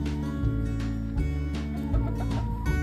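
Orpington hens clucking in a backyard flock, a steady run of soft, repeated clucks with low murmuring between them, close by and with no voices over them.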